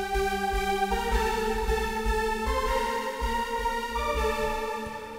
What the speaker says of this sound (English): it's a combination of like a string and like a saw sound